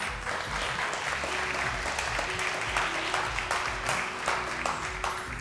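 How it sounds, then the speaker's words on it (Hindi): Studio audience applause for a contestant arriving at a Ramazan debate show, a dense steady wash of clapping over music lasting the whole stretch, loud and close. "इनके लिए बहुत सारी तालियां।"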